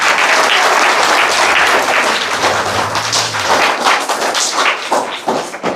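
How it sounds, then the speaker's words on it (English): An audience gives a loud, sustained round of applause honoring a deceased woman at a kindness award event, dense clapping filling the room throughout. "Round of applause in her memory."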